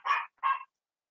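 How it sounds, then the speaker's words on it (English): Two quick, sharp barks from a dog close by, one right after the other, then silence. "you've woke the dogs up"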